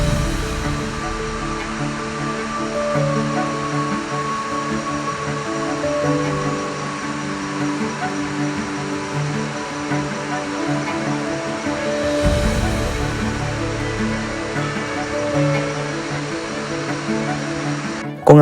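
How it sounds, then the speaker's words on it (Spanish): Steady broadband rush of the Tenes river waterfall at Sant Miquel del Fai, roughly 300 metres high, heard as a loud continuous roar of falling water with no break in its texture. "la cascada del Tenes es una de las más espectaculares de todo el valle"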